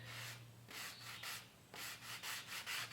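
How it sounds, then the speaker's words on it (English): Hand sanding of wood with 120-grit sandpaper wrapped on a sanding block while shaping a Greenland paddle: steady rhythmic abrasive rubbing strokes, close and fairly loud, with a low hum beneath and no talking. "So I'm going to grab the sandpaper, sanding block, and see how it works."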